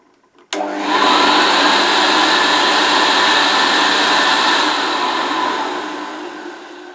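A Hoover C1300 commercial upright vacuum cleaner switches on after a brief silence, its motor and agitator rising at once into a loud, steady whine and rush that holds and then eases slightly toward the end.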